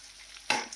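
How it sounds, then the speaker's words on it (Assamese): Potatoes stirred into a pan where shark fish is frying: a quiet low hiss, then a sudden loud scraping, sizzling burst of stirring for about a third of a second that fades. "আলুখিনি ভালকৈ একদম লৰাই লওঁ"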